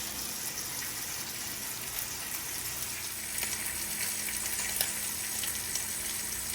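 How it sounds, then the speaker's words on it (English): Short ribs sear in a pan over medium-high heat, giving a steady, even sizzle of frying fat with a few faint pops and crackles rising through it. "We want to build up a nice crust on all sides of these gorgeous looking ribs."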